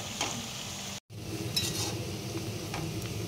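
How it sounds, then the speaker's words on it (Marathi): Onions crackle as they crisp in oil for chicken biryani, a steady close sizzle broken by light stirring scrapes and one brief dropout. "कुरकुरीत असा आपल्याला आपला कांदा तळून घ्यायचा आहे।"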